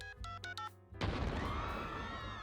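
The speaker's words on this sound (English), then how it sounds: "Those screams, that explosion. Yeah, that wasn't a phone. That was a bomb trigger." A cartoon bomb explosion in Family Guy erupts as one sudden loud blast after a short tonal electronic phone melody, then a long roaring rumble that slowly fades, with no voices.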